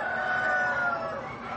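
Silkie hen clucking in a steady, close run of soft vocal calls, continuous and fairly loud with no voices over it.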